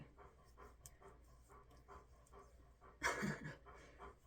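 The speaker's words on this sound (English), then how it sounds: "It's hard to concentrate with you just panting in the background." A dog pants softly in quick rhythmic breaths close by, then a louder rustling burst of movement briefly interrupts the panting.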